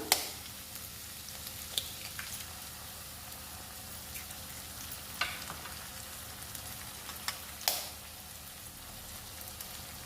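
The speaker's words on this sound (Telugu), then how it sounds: "ఇప్పుడు ఎగ్స్ వేసుకుందాము ఎగ్స్ను కూడా ఫ్రై చేసుకోవాలి మనం" Eggs fry in a pan with oil and spiced fried ingredients while egg rice is prepared, a steady soft sizzle with occasional sharp crackles and pops, no talking.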